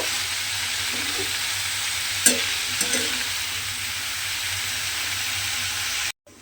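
Shredded cabbage sizzles steadily in a hot pan while being gently tossed, with a few sharp scraping knocks from the spoon before the sound cuts off abruptly.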